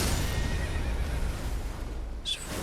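A horse in Elden Ring neighs with a loud, rough, drawn-out whinny over a dense rumbling game soundscape, followed by a short high cry near the end.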